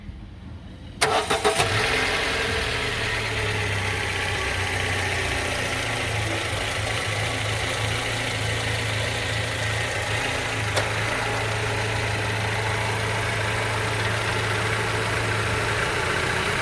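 A 2023 MG Astor Sharp car engine cranks and catches after a quiet second, then settles into a steady, even idle hum that runs on close by without voices.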